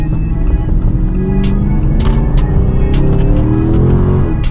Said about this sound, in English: Like it sounds like a stock exhaust kind of, but it's not.